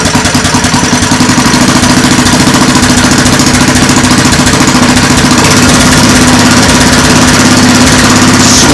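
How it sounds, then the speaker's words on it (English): A vintage Kohler Command Pro 8 HP engine on a mower revs hard, a loud, steady, close-up mechanical roar that holds at high speed for the whole stretch with no voices. "Kohler Comand series, let's rev it up one time."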